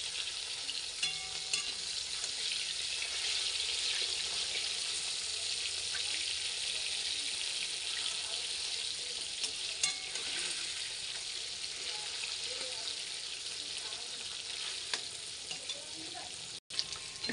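Pabda fish fry in a pan with a steady, close sizzle and crackle that holds evenly throughout, with a brief cut-out near the end.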